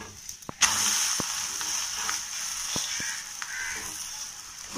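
Adai dosa fries in oil on a pan, a steady close sizzle throughout with a few soft taps and scrapes of a spatula; no one speaks.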